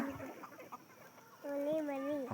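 Native country chickens on a fenced farm in Gadag cluck and call near and far, one drawn-out call standing out near the end, with background voices.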